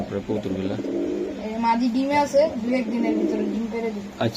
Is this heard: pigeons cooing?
yes